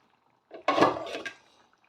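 A spoon gives one short, close stir through a pot of moqueca sauce, the Brazilian dish, after a spice mix is sprinkled in, making a soft wet swish that lasts about a second, with no talk.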